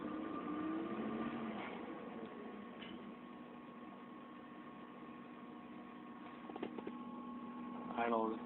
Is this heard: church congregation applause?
no